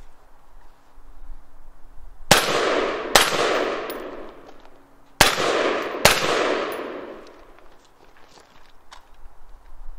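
A compact PDW firearm fires on a range, with four sharp, loud reports in two close pairs ringing out and decaying between them, and no talk over the shots.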